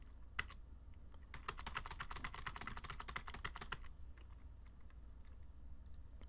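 Rapid clicking of keys on a computer keyboard, a quick burst of keystrokes followed by a few scattered taps, faint and close with no talking.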